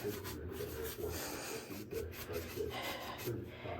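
A big brush swirls brown wax onto a wooden furniture piece, giving a continuous close scratchy rubbing with rhythmic strokes repeating about every half second.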